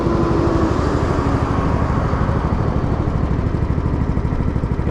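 The engine of a VSI Legacy Series 750 liquid deicing sprayer runs at 75% throttle, a loud, close, steady mechanical drone with a fast pulsing rumble and no break.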